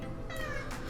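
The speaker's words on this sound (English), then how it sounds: "Sorry about my cat, she likes to be the center of attention." A pet cat meows indoors, two short, fairly quiet calls close to the microphone over a low background hum.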